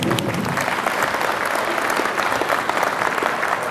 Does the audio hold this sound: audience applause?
yes